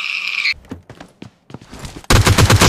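Gunfire in the mobile shooter PUBG Mobile Lite: a short burst at the start, a pause, then a loud, dense volley of shots near the end, with no talk.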